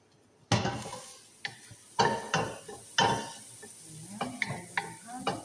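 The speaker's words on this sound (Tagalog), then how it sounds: "Haluin lang po natin ang haluin. Para mag-little brown ang ating onion." Onions being stirred and browned in a pan for rice with red lentils, with sharp spoon scrapes and knocks recurring every second or so over a low sizzle, close and clear.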